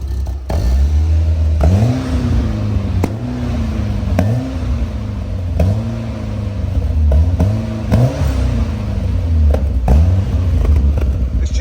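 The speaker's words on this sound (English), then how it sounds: "Sounds like that exhaust blowing." A Peugeot 205 GTI turbo engine revs repeatedly in rising surges, its exhaust rumbling and blowing throughout, loud and close.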